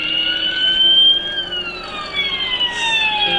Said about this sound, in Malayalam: സൗണ്ട് കുഴപ്പമില്ല ആംബുലൻസിൻ്റെ